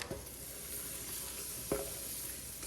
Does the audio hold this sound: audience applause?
no